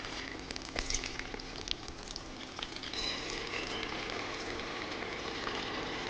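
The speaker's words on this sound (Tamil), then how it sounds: "அப்படியே எண்ணெயில் போட்டு வறுத்து எடுக்க வேண்டியதுதான்" Veg manchurian balls deep-frying in hot oil, a steady dense bubbling sizzle with crackling pops, close and continuous.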